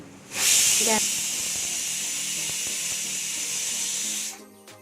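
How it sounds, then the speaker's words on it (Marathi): A pressure cooker whistle: a loud, sharp hiss of steam bursts out and holds steady for about four seconds before cutting off, with faint kitchen clatter beneath. "एक शिट्टी आपल्याला येऊ द्यायची आहे"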